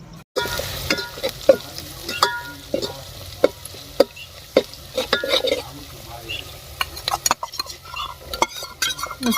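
Onion, green chili and cumin sizzle in oil in a pan in a village kitchen, the crackling hiss punctuated by frequent metal spoon clinks and scrapes as the tempering is stirred, close up.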